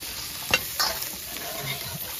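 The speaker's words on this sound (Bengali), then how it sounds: "আমি এবার যে কেটে রাখা আলুটা দিয়ে দিচ্ছি" Cut potatoes hit a pan of fried coriander-cumin spice, with a couple of quick stirring scrapes over a soft, steady sizzle, close and fairly quiet.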